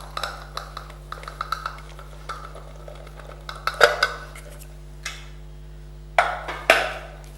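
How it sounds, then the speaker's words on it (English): A wooden spoon stirs chocolate chip muffin batter in a bowl, giving a series of soft, irregular knocks and scrapes against the bowl, close by, over a steady low background hum. "Just give it a mix, a quick mix"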